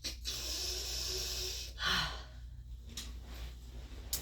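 Two slow, gentle nasal inhalations draw herbal Ayurvedic nasya oil up the nostrils, each a soft close breathy sniff, followed by quieter breathing.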